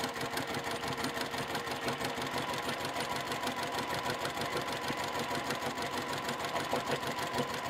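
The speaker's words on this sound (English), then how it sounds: "I'm going to start on the very edge and sew all the way to the other edge" Sewing machine stitching along the edge of a quilt block with confetti thread, a steady, close mechanical whir running evenly throughout.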